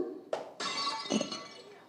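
A clay pot smashing on stage during a school reading-week play in Kerala: a sharp crash followed by a bright shattering burst of scattering fragments, then further clinks as pieces settle, fairly close and without talk.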